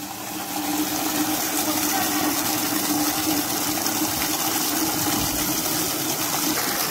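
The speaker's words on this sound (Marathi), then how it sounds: "कसला फोर्स आहे पाण्याला एवढा।" A strong, unbroken rush of water gushing from a tap roars close by, steady and loud throughout with no pauses.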